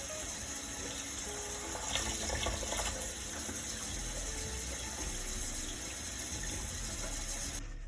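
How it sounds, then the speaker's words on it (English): Hot water pours steadily from a kitchen sink tap, a continuous close hiss and splash of flow running without pause until it is shut off at the end. "you're going to hear the water running"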